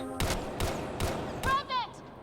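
Sniper rifle shots in the video game Mass Effect Andromeda: three evenly spaced sharp cracks, then a fourth blast followed by a whining electronic sweep.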